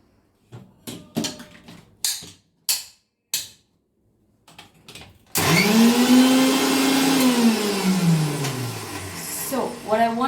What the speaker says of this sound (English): I like to blend the leaves once just to decrease the space that it consumes